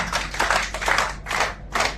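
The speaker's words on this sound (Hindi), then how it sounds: "इस ग्रुप के लिए भी तालियां जी।" A group of people in a hotel training session claps in rhythmic bursts, several quick rounds of close, crisp hand claps with short pauses between them.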